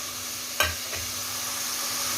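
Whole spices such as white and black cumin, cloves, black pepper, cinnamon and black cardamom fry in hot oil for Kabuli pulao, a steady close sizzle broken by one sharp stirring clatter and a fainter knock.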